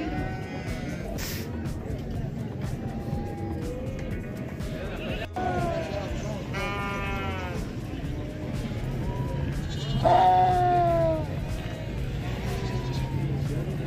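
Sheep or goats bleat repeatedly at a busy livestock mandi in Bhalwal, Sargodha, with rising, wavering calls from several animals over a constant crowd murmur and nearby voices talking.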